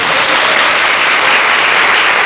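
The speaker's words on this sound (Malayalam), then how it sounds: "അനുഭവമുള്ളവരൊന്ന് കൈയടിച്ചു കേട്ടെ" Loud, dense applause from a crowd at a Cherukol Pooram gathering, a steady broadband wash of many hands clapping together with no talk over it.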